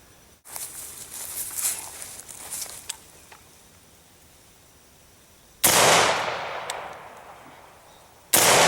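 AR rifle fired outdoors over a chronograph with a bird cage flash hider fitted: three loud, sharp shots spaced seconds apart, each with a ringing, echoing decay.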